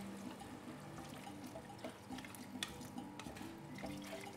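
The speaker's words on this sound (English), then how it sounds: "so about a litre of water is going to go into here" About a litre of water poured into a pot of vegetables for a spicy Moroccan vegetarian couscous, a steady close trickle and splash running continuously with no talk.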